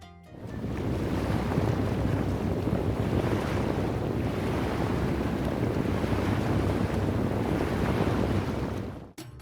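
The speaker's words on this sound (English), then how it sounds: "Beachfront restaurants serve fresh-caught seafood as gentle waves lap at the shore." Gentle waves wash steadily onto an Egyptian beachfront, a continuous close surf rush with wind noise over it and no voices.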